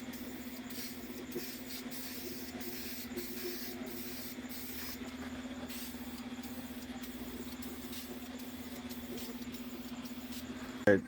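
A spray can lays a first coat of paint in a car's engine bay, a faint airy hiss in short repeated bursts over a steady low hum, ending with a brief louder knock.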